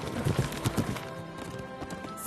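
Horse hooves clop and gallop in a dubbed drama sound effect, a rapid run of thudding beats in the first second that fades into a quieter rumbling background.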